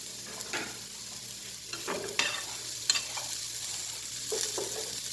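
Garlic and onion fry in a pan with a soft, steady sizzle while a utensil stirs now and then, scraping lightly, close and fairly quiet, no talk.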